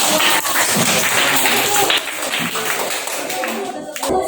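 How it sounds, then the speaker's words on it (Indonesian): A group breaks into dense, fast applause, many hands clapping at once close by, with a few voices mixed in before it tapers off. "Kasih tepuk tangan untuk kelompok 2."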